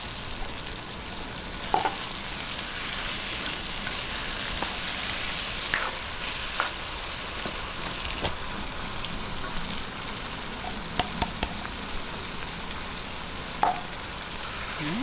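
Corned beef and sliced hotdog sauté in a pan with a steady, close sizzle, broken by a few sharp scrapes and clicks of a spatula as the mixture is stirred.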